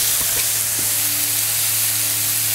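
Steak fajita meat searing in a hot pan gives a loud, steady, close sizzle that runs unbroken from start to finish with no voices.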